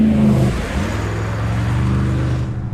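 A classic Corvette engine accelerating along a canyon road, a loud steady motor drone rising slightly in pitch, heard up close with no talking.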